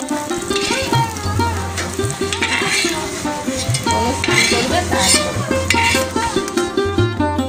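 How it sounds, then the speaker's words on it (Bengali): Chui jhal frying in hot oil, a loud continuous sizzle with brisk, rhythmic stirring clatter of a utensil against the pan, close and busy throughout. "একই রকমভাবে চই ঝালটাকেও ভেজে নেওয়া হচ্ছে।"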